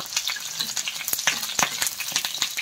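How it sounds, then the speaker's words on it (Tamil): Busy crackling sizzle of mustard seeds spattering and popping in hot oil for tempering fish curry, with sharp rapid pops scattered over a steady frying hiss, close by. "கொஞ்சமாக கடுகு போட்டுருவோம், டப்பு டப்புன்னு டக்குன்னு வெடிச்சிரும்."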